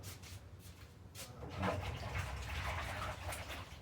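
Potatoes or broccoli being rinsed under a running kitchen tap while making potato broccoli soup, a steady broadband rush of water that swells louder midway and runs continuously without talk.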